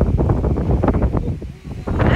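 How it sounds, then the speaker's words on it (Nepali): Strong wind blows outdoors, a loud, rough rumble buffeting the microphone throughout, easing briefly near the end before gusting back, with voices faintly mixed in. "कति हावा लाचो हो नि"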